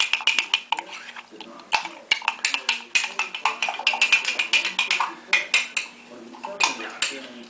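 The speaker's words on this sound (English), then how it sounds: "you're going to mix this mixture until it becomes smooth" A utensil briskly stirring a cornstarch and wine mixture for Swiss fondue: rapid, repeated clinks and scrapes against a bowl, close and fairly loud, in a quick uneven rhythm throughout.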